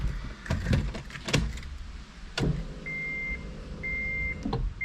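A steady electric whine from a Walbro 460 fuel pump priming in a Honda Civic, a high-pitched tone cutting in and out, surrounded by a few sharp clunks and thumps nearby.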